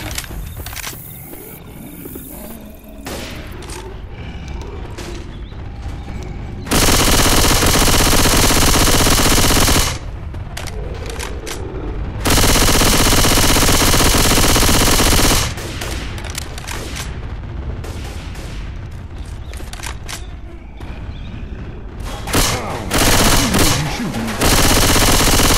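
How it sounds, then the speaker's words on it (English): Sustained bursts of machine gun fire in Left 4 Dead 2 on the Dark Carnival campaign, loud and dense blocks of continuous automatic shooting broken by short gaps of game ambience and roaring creatures, with brief shouted talk. "Going with the machine gun."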